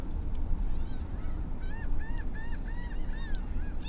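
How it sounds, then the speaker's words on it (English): Laughing gulls call at a breezy beach in the morning. Under a constant rumble of wind, a run of repeated arched, nasal cries comes in quick succession at moderate distance, with no talking. "The laughing gulls."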